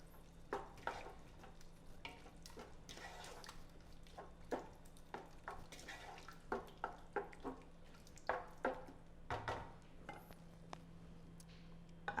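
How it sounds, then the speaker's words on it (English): Stewed tomatoes, green onions and basil leaves for New Orleans shrimp creole are stirred in a pot, giving a quiet, irregular series of soft scraping and wet clacking strokes over a faint steady hum. "Give it a stir."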